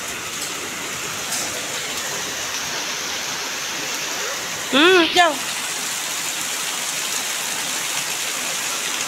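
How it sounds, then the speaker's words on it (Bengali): Heavy torrential rain pours in a steady, dense hiss that fills the whole stretch, with a short burst of a voice cutting in briefly halfway through. "মুষলধারে বৃষ্টি হচ্ছে ঝমঝম করে, বজ্রাঘাত করছে, বৃষ্টি হচ্ছে।"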